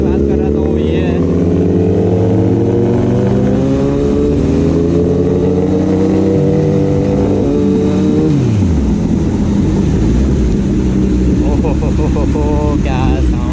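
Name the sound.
Kawasaki ZX10R motorcycle exhaust revving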